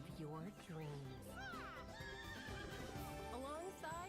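Horses in the Disney Dreamlight Valley video game whinny and neigh repeatedly over a dense game soundtrack, with clip-clopping hooves and voices mixed in throughout.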